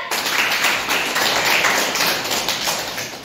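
A classroom of students claps together for a classmate in a 7th-grade geography lesson, a busy, close flurry of hand claps lasting a few seconds with no talking over it.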